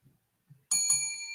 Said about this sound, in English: I'll do the bell.